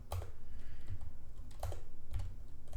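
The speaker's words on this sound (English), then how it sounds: "why can I not type today?" Keys clack on a computer keyboard in quick, uneven bursts of close typing, with small pauses between strokes and no voices.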